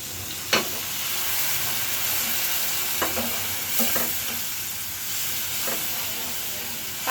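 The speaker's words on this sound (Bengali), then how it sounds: "পানি দিয়ে ভালো করে আমি মশলাটা কষিয়ে নিব" Spice masala of turmeric, coriander and chili powders with fried onion and ginger hisses steadily in a pan after water goes in, with a few sharp spoon knocks during stirring, close and without talk.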